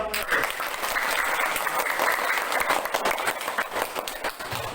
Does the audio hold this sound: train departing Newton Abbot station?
no